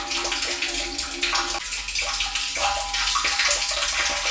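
Water gushing hard from a pipe after a float switch turns on the motor of an automatic water level controller, a loud continuous rushing splash close by that holds steady throughout with no pauses.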